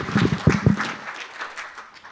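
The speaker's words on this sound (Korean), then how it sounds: "최양희 총장님을 모실 때 박수로 환영해 주시기 바랍니다." Brief applause from a symposium audience welcoming a university president, starting with a few loud near claps, then settling into a softer, steady patter that fades.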